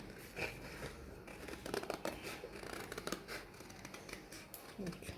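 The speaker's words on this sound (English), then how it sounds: "So you're going to cut it out now" Scissors snip through folded paper, cutting out a traced template for a simple red paper flower, the quiet crisp cuts and paper rustles coming in an irregular run close by.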